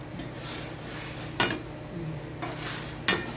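Vegetables for denengdeng are stirred in a cooking pan, with soft scraping under a faint sizzle and a few sharper utensil knocks against the pan.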